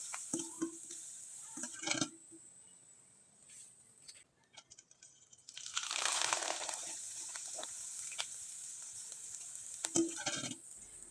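Rice flour pitha frying in hot oil gives a steady, close sizzling hiss with crackles. It swells loudest through the second half of the clip, and brief clatters of handling interrupt it.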